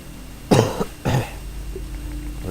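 Two harsh, forceful coughs burst out in quick succession from a character in the survival game Grounded, followed by a faint low tone and quiet background.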